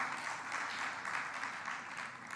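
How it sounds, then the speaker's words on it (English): Audience applause at a conference closing ceremony, a steady, moderately loud wash of clapping with no distinct pauses. "Another clap."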